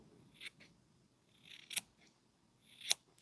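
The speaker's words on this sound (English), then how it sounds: "I think it helps if your scissors are sharp" Sharp scissors snipping through material, a few quiet crisp cuts spaced irregularly, close and soft against a near-silent room.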